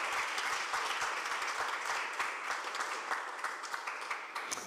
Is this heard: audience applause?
yes